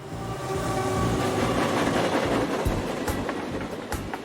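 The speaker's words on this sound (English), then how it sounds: "he can hear the train as it goes by" A train passes close by, a loud steady rumble of rolling wagons with sharp wheel clacks toward the end and no voices.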